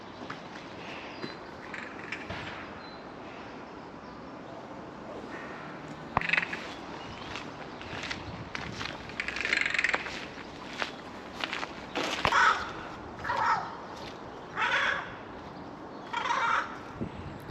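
Birds call loudly in repeated bursts, harsh and caw-like, with footsteps crunching along underneath outdoors near a cathedral in Aberdeen, Scotland.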